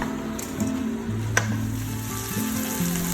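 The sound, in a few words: frying prawns with spices on medium heat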